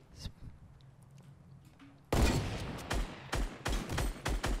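Gunfire erupts in a Fortnite match, starting with a sudden loud shot and continuing as a rapid run of sharp cracks and thuds over low game ambience.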